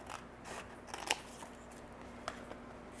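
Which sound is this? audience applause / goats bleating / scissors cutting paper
scissors cutting paper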